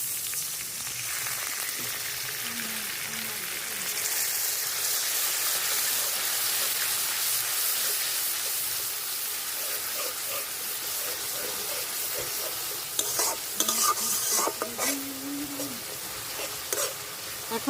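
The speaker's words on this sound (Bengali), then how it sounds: "রসুন বাটা, আদা বাটা, জিরা বাটা, অল্প জল দিয়ে কষাই নিব।" Garlic, ginger and cumin paste with a little water sizzles and fries in a pan for a Bangladeshi egg curry, a constant steady hiss with occasional stirring scrapes near the end and a faint voice in the background.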